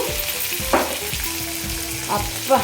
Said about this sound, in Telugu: ఇలా బాగా వేపుకోవాలి.